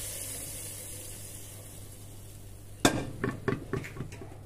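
Steady hiss of garlic frying in a pan, then a burst of sharp metallic clinks and scrapes as a utensil knocks and stirs against it.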